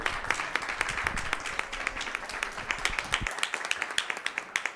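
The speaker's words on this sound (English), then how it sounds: "Please join me in a round of applause and congratulations." Audience applause fills a school board meeting hall, steady clapping from many hands sustained throughout with a few sharper claps near the front, no talking over it.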